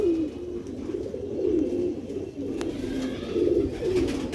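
A Ferozpuri pigeon chick coos in low, soft, repeated gurgling calls close by, over a faint background hum.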